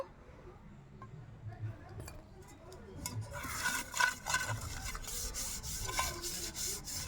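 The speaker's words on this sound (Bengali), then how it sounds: "একটা অ্যালমোনিয়ামের পাত্র নিয়েছি আপনারা স্টিলের বাটিও নিতে পারেন আমি এটা নিলাম এটার গায়ে একটু সাদা তেল মাখিয়ে নেব" Oil is rubbed onto an aluminium cake pan by hand, a soft, steady scraping and rubbing that turns busier and brighter partway through, with faint clinks in a quiet kitchen.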